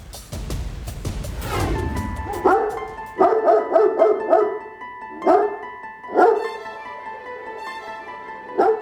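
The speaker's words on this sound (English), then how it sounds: "Innisfail, Alberta, is where police dogs like Nick are made, literally." Police dogs bark in loud, close, repeated bursts, several overlapping yaps spaced irregularly, after a rising rumble at the start.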